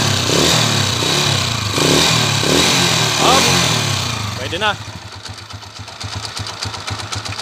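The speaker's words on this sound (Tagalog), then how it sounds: "Maingay timing gear nito" A motorcycle engine with a noisy timing gear revs in several bursts and then settles into a rattly, ticking idle, heard up close with someone talking over it.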